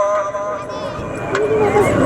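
A horse neighs loudly and close at a tent pegging event in Gujrat, a long shrill whinny rising over announcer talk and crowd murmur, with faint hoof clatter.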